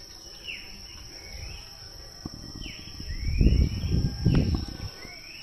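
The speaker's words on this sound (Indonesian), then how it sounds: "dengar suara burung" Birds call on a cool morning mountain road, with repeated sweeping chirps over a steady insect drone, heard against nearby rustling and low bumping sounds.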